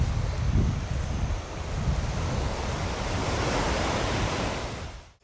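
Ocean surf breaks steadily on a beach along the Monkey Trail, a continuous roaring wash of waves mixed with wind buffeting the microphone, loud and close throughout with no voices.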